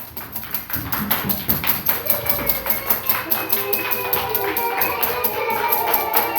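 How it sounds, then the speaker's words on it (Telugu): Children clapping together in a steady, rapid rhythm of close, even claps during a classroom colour activity, continuing without a break under a faint voice. "క్లాప్స్ కొట్టండి మీరు."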